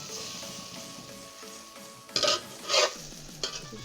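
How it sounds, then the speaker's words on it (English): Pancake batter sizzling in a frying pan, with a low steady fry broken by three brief louder bursts as the pancake is turned and pressed against the hot pan. "I have to flip it over now."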